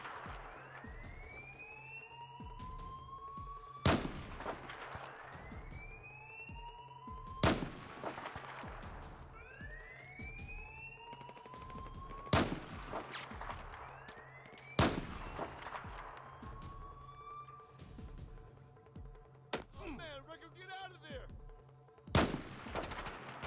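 Gunfire in the shooter game Battlefield 4, sharp single shots and short bursts cracking every few seconds over a steady battlefield drone with rising whistling tones in between.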